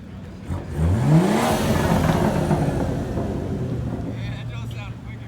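At a car meet, a car engine revs loudly close by, its pitch climbing sharply before settling into a rumbling drone under gusts of wind buffeting the microphone.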